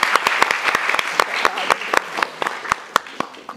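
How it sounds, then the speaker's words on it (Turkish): A studio audience at a Turkish comedy show breaks into loud, dense applause, many hands clapping together in a steady wash with sharper individual claps standing out near the front. "Bir alkış daha. Bir alkış."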